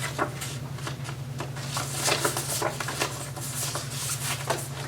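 Playing cards are shuffled by hand at home in a loose, random way, a soft, rapid riffling patter that runs continuously over a low background hum.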